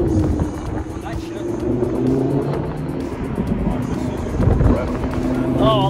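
An Audi R8 V10 Performance Spyder Quattro revs loudly up close with a snarling, rising engine note, while people talk over it.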